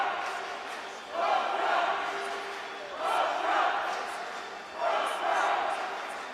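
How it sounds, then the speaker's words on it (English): A Polish crowd chants in a room at a EuroArm 2017 senior arm wrestling final, rhythmic group shouts rising in three loud surges over a constant murmur of the audience. "the Georgian crowd started the cheering for Georgia and awoke the Polish crowd, who simply took over with the Poland chanting in the room"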